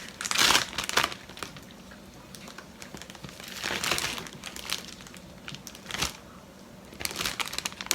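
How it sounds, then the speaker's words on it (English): A plastic Ziploc bag crinkles and rustles close by in several bursts, loud crackling handling noises separated by quieter gaps, as barbecue rub goes into it. "we're going to put this into a Ziploc bag."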